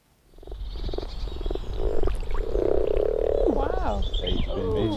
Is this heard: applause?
no